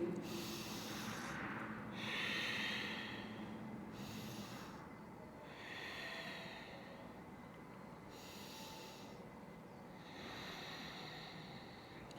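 Slow, deep breaths taken while holding a deep hip-opener stretch on the forearms, each long inhale and exhale repeating every few seconds, soft and close.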